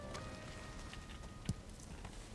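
Steady soft rain falls in Valheim, a quiet hiss of patter with scattered drops, broken by one brief louder tap near the middle.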